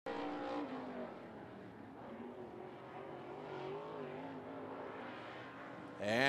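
Stinger limited late model race car at 411 Motor Speedway in Seymour, Tennessee, running a qualifying lap, engine droning steadily with shifting harmonic pitch, loud and close throughout, with no talk.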